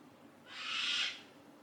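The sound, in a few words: birds calling outside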